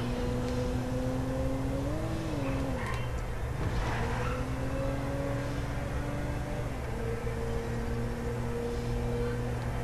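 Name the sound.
car driving in GTA V video game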